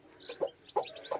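A hen clucks with her newly hatched chicks in a village in Punjab, Pakistan: a few short, soft, close clucks in uneven bursts, with faint higher chirps around them.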